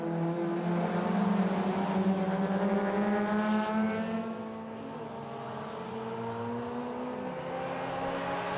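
Suzuki Swift rallycross cars race past in the 2019 BRX round 5, engines roaring loudly up close, dropping in pitch as they brake for a right-hander, then revving back up as they accelerate away.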